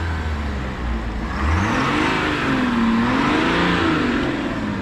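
A 2022 GMC Sierra 1500 diesel pickup's inline-six engine runs close by with a steady low rumble, its pitch wavering as it revs slightly up and down.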